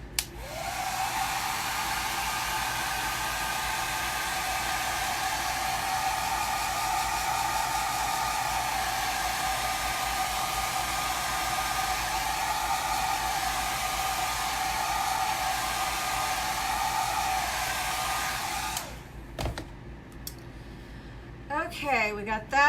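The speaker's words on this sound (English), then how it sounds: "Now I want to grab my hair dryer." A hair dryer blows steadily and loudly for about nineteen seconds while chalk art is being dried, then cuts off, leaving a few quiet handling clicks.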